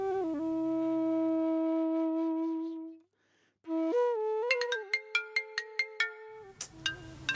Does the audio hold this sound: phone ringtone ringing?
yes